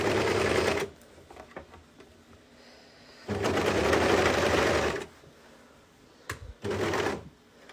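A sewing machine stitches the underarm seam of a long-sleeve baby tee. It runs in three loud, close bursts of rapid whirring, separated by quiet handling pauses, with no voices.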